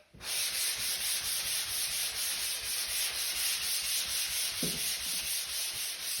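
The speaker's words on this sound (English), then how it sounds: "first thing you're going to do when you're sanding, you're going to burn your edges down first" Drywall mud on a second coat is sanded by hand. A steady, close abrasive rasp rubs on continuously with no pauses and no talking.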